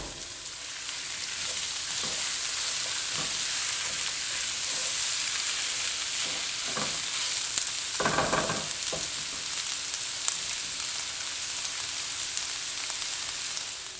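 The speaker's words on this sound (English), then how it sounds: "we're browning the onions and the sausage" Onions and sausage browning in a soup pot give a soft, steady sizzle at low level, with a few faint stirring scrapes and knocks scattered through.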